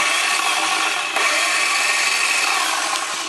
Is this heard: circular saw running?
yes